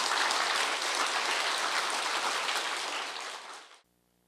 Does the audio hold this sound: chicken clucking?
no